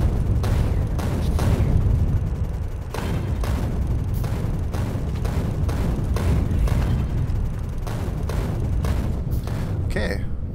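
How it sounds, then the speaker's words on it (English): A run of grenade explosions in Factorio, repeated booming bursts at uneven intervals over a steady rumbling backdrop, with speech over the barrage. "So let's drop a bunch of grenades."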